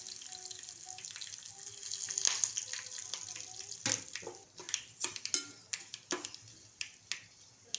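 Mustard seeds, fenugreek and curry leaves frying in hot oil for sambhar, a close sizzle with sharp crackling pops that grow busier and louder toward the end.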